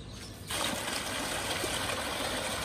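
Farmed catfish in a Nigerian fish pond thrash and splash at feeding time, a sudden burst of broad, churning water noise that starts after a brief quiet moment and keeps going steadily, close and fairly loud.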